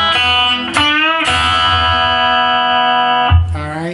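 An electric guitar with heavy distortion plays a blues lick: loud, sustained, gritty chords with a short slide and a re-struck note near the end, up close and with no talk over it.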